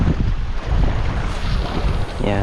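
Strong wind buffets the microphone on a boat at sea during saltwater popper fishing, a loud continuous low rumble with choppy water beneath, and a brief tonal hum rising near the end.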